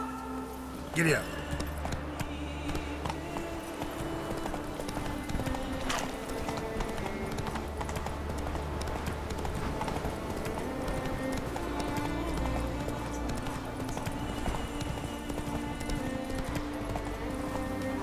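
Roach the horse in The Witcher 3 moving at speed, hooves beating a steady rapid clip-clop under layered game music and ambience, with a voice speaking briefly near the start.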